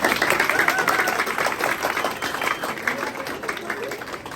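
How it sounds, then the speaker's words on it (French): Audience at an event in Cap-Haïtien breaks into applause, a dense, loud wash of clapping from a crowd that holds steady and slowly tapers over several seconds. "Applaudissez-vous s'il vous plaît."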